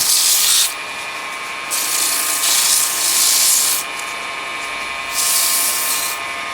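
Sandpaper rubs against a wooden detail box spinning on a wood lathe, loud hissing strokes that come in several separate passes with short quieter gaps, close up and without talk.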